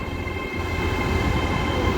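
A London North Eastern Railway train pulls into Doncaster station, a loud, steady rumble of wheels and carriages rolling close by with a faint high ringing tone over it, no voices.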